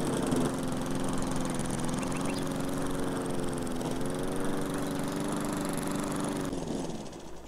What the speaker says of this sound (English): When I hear the sound of the mower, it almost sounds like the deck is engaged.